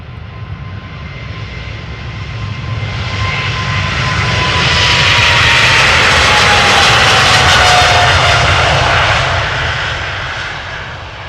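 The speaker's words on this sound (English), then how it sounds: "This is China Eastern Airlines going to Shanghai. Flight 772. 777-300 ER, 7 years old," A China Eastern Boeing 777-300ER departs Amsterdam Schiphol. The loud jet roar swells to a peak midway through and then slowly fades, with a thin whine sliding downward across the rumble.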